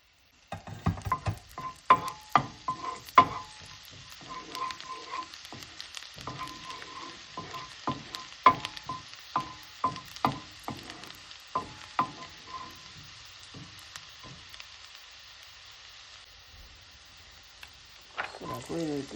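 Garlic sautés in a pan for Jamaican-style saltfish seasoned rice, with sharp spatula scrapes and stirring clatter over a low sizzle, close and intermittent, the sound fading toward the end.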